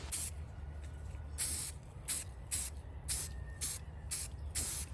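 Repeated short bursts of spray paint primer from an aerosol can, each a sharp hiss lasting under a second, separated by brief pauses over a low background hum.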